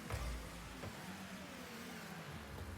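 Car engine in the video game Rocket League, a faint steady mid-range drone with a brief low thump at the start, heard under a noisy background.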